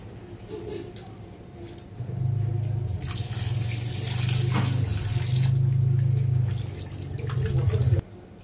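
Salted bain fish rinsed under running water, a continuous close splash and gush with a low rumble that swells midway and cuts off abruptly near the end.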